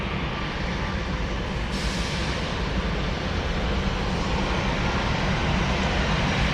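A United airliner arriving at Columbus airport produces a broad, steady jet roar, heard from a distance and holding constant without voices.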